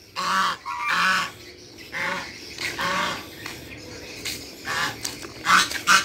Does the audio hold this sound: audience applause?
no